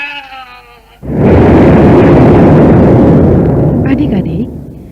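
A loud, sustained explosion in an audio drama erupts abruptly after a moment of voiced buildup, roaring broadband for several seconds before tapering, with a brief voice near the end.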